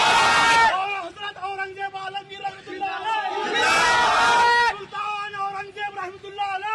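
A crowd raises loud zindabad slogans in unison, a dense chanting mass with a second swell of shouting midway, continuous and close throughout.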